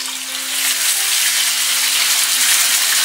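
A steady, close hiss of fish frying in a pot, crackling continuously without pauses or voices.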